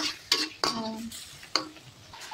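Adobo eggplant with octopus stirred in a pan, a few distinct scraping strokes of a utensil against the pan with a soft sizzle underneath, close and fairly loud.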